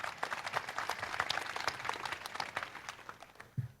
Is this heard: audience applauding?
yes